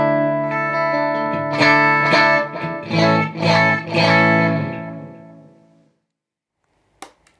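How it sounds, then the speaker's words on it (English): Clean electric guitar tone: several strummed and picked chords ring out bright and clear, then decay into silence, ending with a small click. "First, here's my clean sound."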